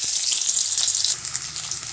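Vegetables for a masala khichdi hiss and sizzle loudly in hot oil in a wok, a bright steady frying crackle that eases a little partway through, with no voices.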